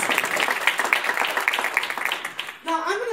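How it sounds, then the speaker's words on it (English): An audience at an Illinois Attorney General candidates forum at Chicago State University applauds the first panelists with a brisk patter of many hands that fades out, after which a voice begins talking. "Can we give them a round of applause?"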